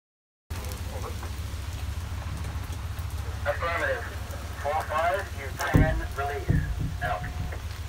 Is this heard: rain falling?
yes